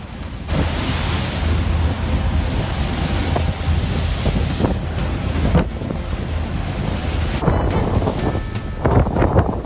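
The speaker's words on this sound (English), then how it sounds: "Towering waves crash against the hull, fierce winds whip across the deck" Storm-driven ocean waves crash continuously against a ship's hull while fierce wind roars across the deck, a loud, dense wash of surf and wind gusts with no voices.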